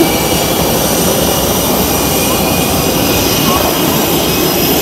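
Jet engines roar on an airport tarmac in a loud, steady, unbroken wash of noise that fills the whole stretch, with voices faintly mixed in.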